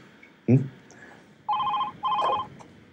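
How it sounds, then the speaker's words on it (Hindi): An outgoing-call ring tone sounds twice in even electronic bursts, following a short vocal sound at the start, in an otherwise quiet room. "पहले समीर को फोन करते।"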